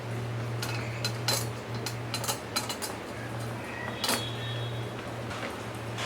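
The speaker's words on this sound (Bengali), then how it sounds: "একটু কাঁটা চামচ দিয়ে আমি ছিদ্র করে করে দিচ্ছি" A fork pricks holes in pizza dough pressed into a lined pan, giving a series of light, irregular taps and clicks against the pan over a steady low hum.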